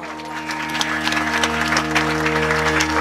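An audience at a kirtan claps together in a loud, dense burst of applause that carries on for about three seconds, with a steady musical drone sounding underneath.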